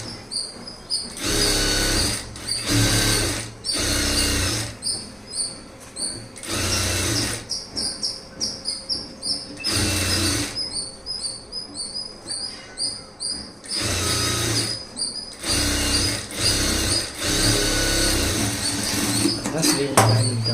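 Sewing machine stitching a double seam on a lined blouse sleeve, running in repeated bursts of rapid whirring with short pauses between, close and fairly loud, with occasional handling noise.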